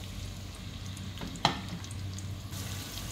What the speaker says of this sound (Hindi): जैसे ही ये तेल गरम हो जाए हम इसमें ऐड कर